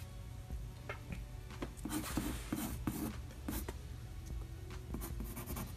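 A pencil scratches out strokes on paper while a Green Arrow figure is being drawn, soft close rubbing and scraping in short bursts that bunch up in the middle, fairly quiet and with no talk.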